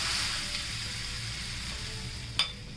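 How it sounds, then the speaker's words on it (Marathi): Hot oil tempering with asafoetida is poured over onions for a crisp crab-style onion bhaji chutney, giving a steady close sizzle and crackle throughout, with a brief sharper spatter near the end. "ही अशी गरम गरम फोडणी आहे ना या कांद्यावर घालते"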